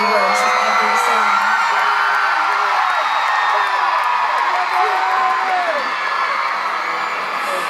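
A sold-out stadium crowd of 40,000 at a concert in Sydney whoops, yells and cheers loudly and continuously, a dense roar with individual shrieks rising above it throughout.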